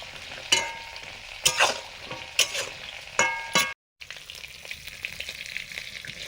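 Fish frying slowly in a pan over low heat, a soft continuous sizzle broken by several sharp scraping stirs, fairly close but quiet.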